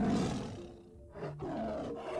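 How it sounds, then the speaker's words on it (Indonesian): A tiger roar sound effect, a deep rough growling roar that swells and fades over a couple of seconds, loud and close, with nothing else heard. "kita semua dikagetkan dengan suara auman macan dari arah belakang"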